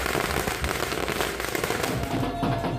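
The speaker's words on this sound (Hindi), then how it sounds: "जमकर आतिशबाजी भी हुई" Fireworks at a celebration of India's Women's Cricket World Cup win, a dense continuous barrage of crackling bursts and pops with a busy crowd-like wash behind, loud and sustained throughout.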